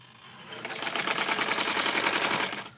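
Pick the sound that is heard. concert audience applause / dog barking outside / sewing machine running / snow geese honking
sewing machine running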